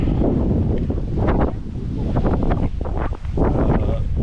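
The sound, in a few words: wind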